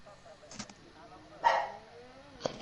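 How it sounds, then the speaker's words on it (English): A few short, faint dog barks spaced apart, somewhat distant, over quiet background noise. "Sorry about the dog, by the way."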